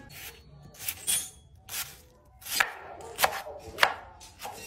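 An onion diced into small squares on a board, a handful of sharp, close knife chops spaced irregularly, with quiet gaps between strokes and no talking.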